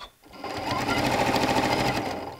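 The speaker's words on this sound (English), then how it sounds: "Then I can actually pivot and I just start sewing again." A Janome Continental M7 sewing machine stitches steadily with a fast, even mechanical whir. It starts after a brief pause and keeps a loud, constant rhythm for about two seconds, then eases off at the end.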